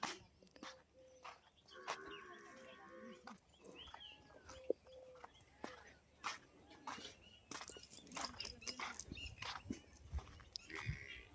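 Buffaloes are watered on a farm, with sparse, faint animal calls, shuffling and scattered knocks at a distance, and some quiet voices in between.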